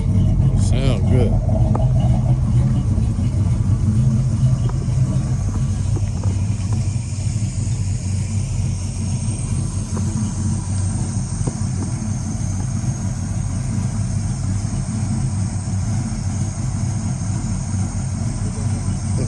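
Chevy box car engine idling steadily after a tune-up, a continuous low rumble with a brief rev near the start, burning some oil off the cylinders, with voices talking over it.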